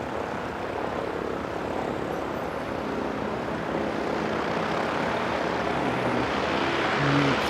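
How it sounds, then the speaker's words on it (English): A Diamond DA-42 Twin Star, a twin-engine composite light aircraft, gives off a steady, fairly loud propeller-engine drone that swells slightly toward the end, with no voices. "It's a Diamond DA-42 Twin Star, apparently, according to Flight Radar"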